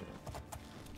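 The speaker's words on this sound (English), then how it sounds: "Oh, what's this, a wild horse?" Wild horse hooves clip-clopping in The Elder Scrolls IV: Oblivion, quick, quiet rhythmic hoofbeats over a low outdoor background.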